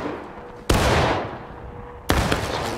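Two loud, close gunshots from Civil War muskets in War of Rights crack about a second and a half apart, each trailing off in a long echoing decay.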